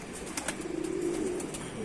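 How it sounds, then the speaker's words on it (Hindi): A pigeon from a home loft in Rampur gives a soft, rolling low coo that swells in the middle of the stretch, set against light background noise with no speech. "ये भी 2 बजे के बाद बैठा कबूतर।"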